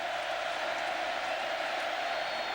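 A packed stadium crowd roars during a 2006 college football game, Oklahoma at Texas A&M, as a dense, continuous wash of noise with no distinct cheers or claps standing out.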